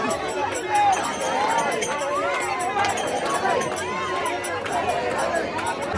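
Crowded pilgrims at Nidhivan temple in Vrindavan fill the air with constant overlapping chatter and calls, a dense, close babble of many voices at a steady level.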